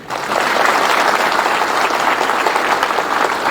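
Dense, steady applause from a large audience at a hospital event fills the whole stretch, loud and continuous with no voices on top.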